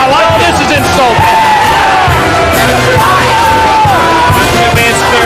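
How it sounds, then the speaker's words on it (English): A wrestling arena crowd on its feet at a televised Friday night show, roaring, yelling and whooping in one continuous loud wall of noise, with shrill individual shouts rising above the din throughout. "Hey, the crowd's on their feet."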